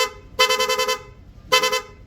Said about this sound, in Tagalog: Palit, PIA horn. Okay, pag long press, magra-rapid.